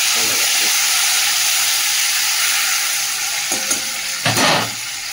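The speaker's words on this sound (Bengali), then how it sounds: "চলো চিংড়ি মাছটাকে একটু লাল করে ভেজে নিলাম" Prawns fry in hot oil in a kitchen pan, giving a loud, steady sizzle and hiss throughout. A few clinks from stirring come near the end.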